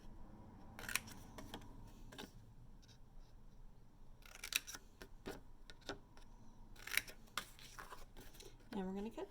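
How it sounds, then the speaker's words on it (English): Scissors snip the tabs on a paper box being made, a few crisp cuts in small clusters with rustling paper handling between them and faint background sound. "we're going to cut these tabs"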